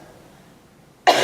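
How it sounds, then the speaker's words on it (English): A single sharp, loud cough bursts out at the very end after near silence. "So when I cough, I first inhale, my diaphragm lowers,"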